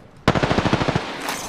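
Automatic weapon fire in the battle-royale game Apex Legends, a sudden loud burst of about ten rapid shots in even rhythm, then a short tail of echo.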